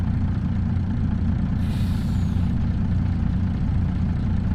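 An American truck engine in Farming Simulator 25 starts up and rumbles steadily and loudly, with a sharp hiss of air brakes bursting out briefly midway.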